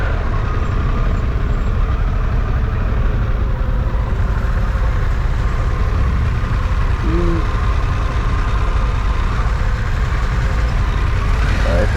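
A 2022 Harley-Davidson Pan America motorcycle pulls away with other bikes, a loud, steady engine rumble with heavy wind buffeting throughout.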